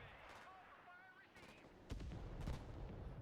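Artillery fire in the Broken Arrow video game: after a quiet stretch of battle noise with whistling tones, heavy booming blasts and rumbling impacts come in, loud and sustained toward the end.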